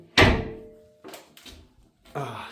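A heavy door in a 1950s shelter inside a residential building closes with a loud thunk, followed by a few quieter metallic clunks and a final latching knock.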